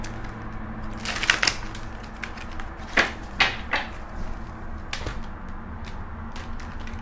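A deck of tarot cards is shuffled by hand in a quiet room, giving a few brisk riffling and tapping bursts spaced over several seconds, soft and close with no talking.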